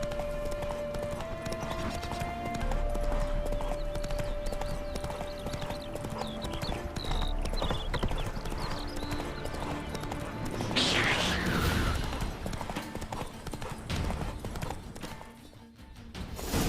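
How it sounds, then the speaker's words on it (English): Roach, a horse in The Witcher 3: Hearts of Stone, trots with steady clip-clop hooves and gives a brief whinny amid game music and ambience, fairly close and sustained. "Spooking my horse. Roach doesn't like ghosts."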